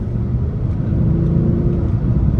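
A 555 hp twin-turbo V8 Audi S6 accelerates hard from inside the cabin, a steady deep engine rumble and whir holding loud and even without speech.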